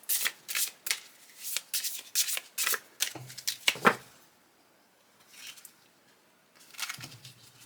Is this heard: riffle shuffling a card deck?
yes